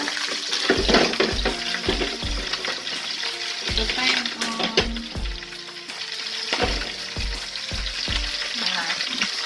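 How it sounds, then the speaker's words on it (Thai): Pork skin frying in hot oil in a home kitchen, a loud steady sizzle and crackle with intermittent clattering stirs and knocks throughout. "ตอนนี้เรา ดัดน้ำมันนะคะหนังหมูให้ตึงเนาะ"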